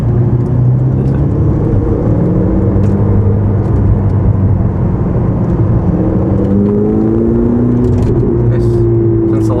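A Ferrari 488 with a titanium exhaust drives along a road, its engine giving a steady, loud droning rumble with gently shifting pitch throughout.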